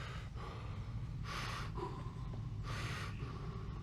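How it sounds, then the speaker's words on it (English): Heavy panting breaths of an exhausted character in the video game Kingdom Come: Deliverance, two long loud exhales about a second and a half apart, over a low steady background hum. "You can hear the heavy breathing"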